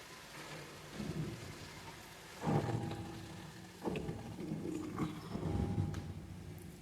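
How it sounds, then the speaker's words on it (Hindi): A night-time rainstorm with rolling thunder: steady rain hiss runs throughout, broken by several low, booming thunder rumbles and claps of moderate loudness, and no voices are heard. "बारिश आ गई है"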